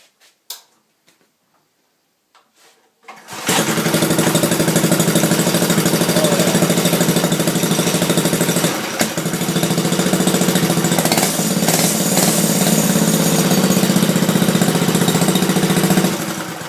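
A Manco Thunderbird mini bike engine fires up after a few quiet clicks, then runs steadily and loud with a rapid, even chatter close by.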